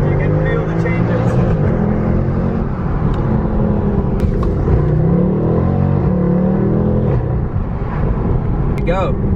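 A car cruises into town, its engine humming low and steady with road rumble and occasional shifts in pitch, heard from inside the cabin under faint voices.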